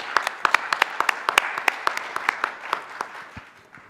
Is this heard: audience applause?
yes